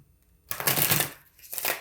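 Tarot cards being shuffled give a quick riffling flutter of about a second after a brief silence, followed by a second shorter burst, close and clear with no talk.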